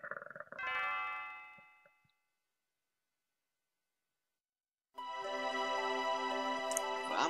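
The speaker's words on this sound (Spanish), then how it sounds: "Qué sonido más bonito que hace la campana de Lene." Chiming of Leene's bell in the Chrono Trigger video game, heard as a ringing tone that fades out, then a long silence, then a fuller bell-like musical passage that sustains to the end.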